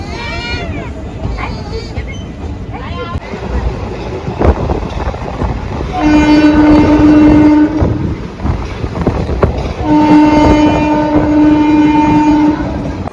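A crowded passenger train running from Porbandar to Surat, with a steady rumbling roll and clatter, two long sustained horn blasts, and people talking aboard.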